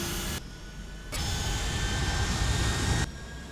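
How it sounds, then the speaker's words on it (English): Boeing 757 jet engines in a flight simulator game run as a steady broadband roar, dipping briefly near the start and then swelling to a sustained, fairly loud drone that falls back near the end, with no talk over it. "Can you hear the engines on the stream, anyone?"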